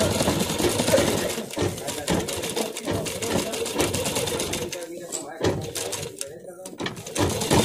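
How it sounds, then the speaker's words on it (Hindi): Sewing machine stitching a seam over cloth while assembling homemade warm shoes and socks, its motor whirring steadily through the clip beneath continuous talking. "अब हमें एक सिलाई लगा लेनी है इसके ऊपर, ताकि ये हमारी फॉर्म इधर उधर ना भागे"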